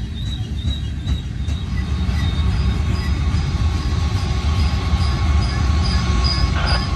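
A fully loaded westbound coal train rolls past on Cajon Pass main track 3, a loud, steady rumble of heavy wagons with faint wheel squeal running throughout, close and continuous with no talking.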